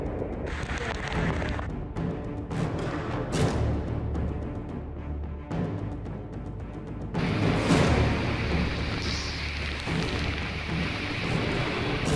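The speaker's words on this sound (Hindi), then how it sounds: "अभी बादल फटे हैं और ये दृश्य इधर का।" Heavy cloudburst rain pours steadily in a monsoon-hit hill area during landslides, with rumbling thunder rolling underneath; a dense, loud wash of rain fills the whole stretch and swells louder in the second half.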